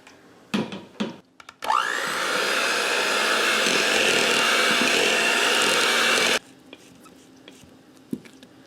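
An electric mixer beating chocolate cake batter for a double layer cake whirs loudly and steadily for about five seconds, framed by a few brief clinks and light handling noises before and after.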